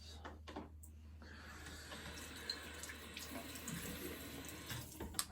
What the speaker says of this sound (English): Then I cold rinsed that off.